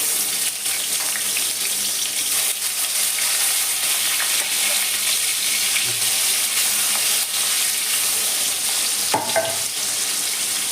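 Salted hot oil crackles as pieces of rohu fish fry in it, a steady loud hiss close up, with a brief clink partway through.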